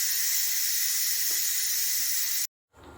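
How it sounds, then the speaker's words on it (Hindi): A Zaicon pressure cooker vents steam with its weight lifted, a loud steady hiss running continuously for over two seconds before stopping abruptly, then a softer hiss resuming, with no talk. "ये देखिए ये इस तरीके से भाप जो है रिलीज कर रहा है।"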